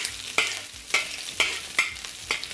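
Shallots, garlic and ginger fry over medium heat in a pan, a soft steady sizzle broken by about six evenly spaced scraping stir strokes, close and moderately quiet, no talking.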